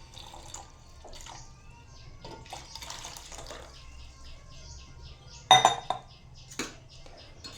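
A metal milk vessel is rinsed and scrubbed with water, quiet splashing and scraping with a few sharp clanks of the pot against a hard surface, moderately close.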